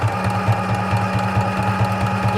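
A home sewing machine with poorly adjusted bobbin tension stitches in a steady, fast rhythmic whir of repeated mechanical pulses, heard close and alone.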